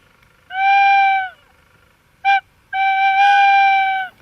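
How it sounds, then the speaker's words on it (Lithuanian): A recorded owl call plays loudly: a long tonal hoot, a brief short note, then another long sustained hoot, clear and alone against a quiet background. "Naminė pelėda."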